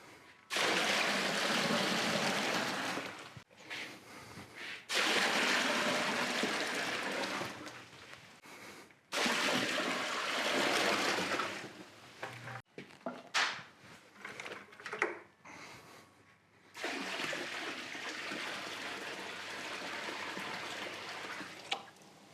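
Water is poured in bursts of about five gallons into a plastic tote during a rust-removal electrolysis setup. Several loud, close rushing gushes are separated by short pauses, with splashing and sloshing between them.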